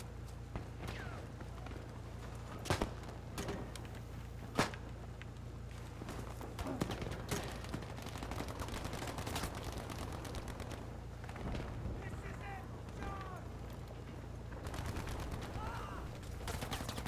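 Shotgun fire in the World War II shooter Battlefield V, with a few sharp, loud blasts spaced irregularly over a constant low game rumble and scattered distant gunfire.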